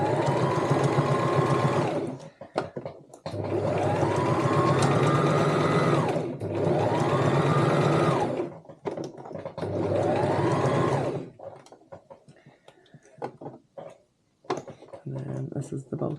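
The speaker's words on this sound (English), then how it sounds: "Take your zipper foot off and sew it with 1/4 of an inch." A sewing machine runs a quarter-inch seam on a fabric cosmetic bag, guided along the presser foot edge, in four close whirring bursts with short pauses, then quieter fabric handling and clicks.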